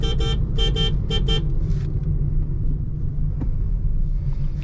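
A steady, loud low rumble of engine and road noise fills the cabin of a 2025 Honda Amaze facelift while driving, with a few brief high tones early on and no talk.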